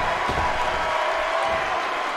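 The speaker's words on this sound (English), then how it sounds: "The crowd are loving it." Wrestling crowd at an indoor event roaring and cheering continuously, a dense steady wash of voices and applause with no clear breaks.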